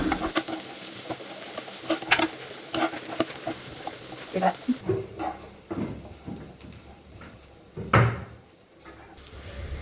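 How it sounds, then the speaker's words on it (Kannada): Boiled chickpeas being stirred into egg and butter in a pan, with scraping spoon strokes and a soft sizzle, then a clunk and quieter stirring near the end. "ಇವಾಗ ನಾನು ಏನು ಬೇಯಿಸಿಟ್ಕೊಂಡಿದ್ದೀನೋ ಚೆನ್ನನ ಇದರಲ್ಲಿ ಹಾಕ್ಕೊಂಡು ನೀಟಾಗಿ ಮಿಕ್ಸ್ ಮಾಡ್ಕೊತೀನಿ."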